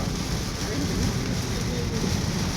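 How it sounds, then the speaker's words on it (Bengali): Heavy rain pours down steadily in a dense, unbroken hiss of drops striking surfaces close by, loud and constant throughout, with no talking heard. "বৃষ্টিটা মারাত্মক বৃষ্টি হচ্ছে।"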